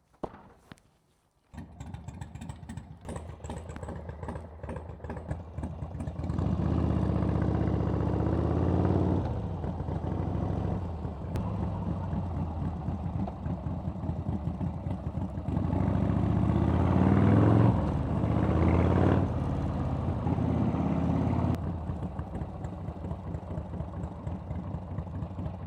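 A rubber-mount Harley Sportster 1250 chopper rides and brakes, its engine a steady close rumble that swells and eases as the bike slows, heard alone without talk.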